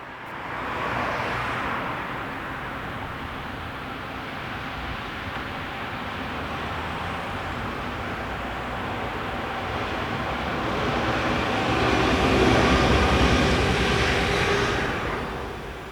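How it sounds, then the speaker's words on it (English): German electric multiple unit 440312 pulling out of a station on the line near Würzburg, a steady rumbling roar with motor whine that swells louder toward the end before easing, heard alone without voices. "Leaving the station is unit number 440312 with the 733 from Bamberg to"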